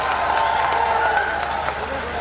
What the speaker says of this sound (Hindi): इसके लिए भी एक जोरदार ताली होनी चाहिए